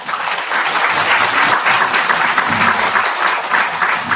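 An audience applauds after an education superintendent's lecture in a hall, a dense, loud, even wash of clapping that holds steady throughout without any speech.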